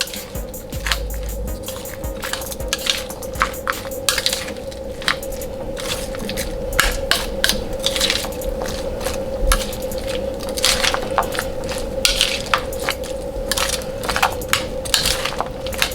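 Fresh salsa mixed with lime and salt, a steady run of wet squishing and crunchy stirring clicks from the utensil against the bowl, close up and continuous over a faint background hum.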